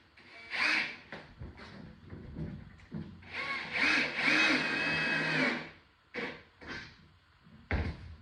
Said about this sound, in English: I can go ahead and run these pocket screws in